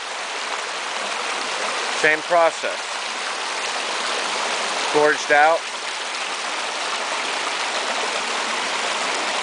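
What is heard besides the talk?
stream water flowing over placed rocks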